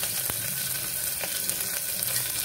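Onions fry in a pan for vegetable pulao with a steady, close hiss and sizzle and faint crackles throughout. No one speaks.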